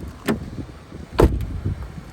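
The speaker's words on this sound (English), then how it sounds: "listen to this door shut." The door of a 2000 Lincoln Continental swings shut with a solid, muffled thud, preceded by a lighter click or latch sound, close up and with no voices.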